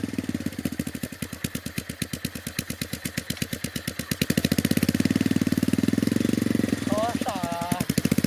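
Homemade vehicle's small engine chugging with a steady, rapid putter, then rising in loudness and pace as the throttle is opened, with voices talking over it near the end.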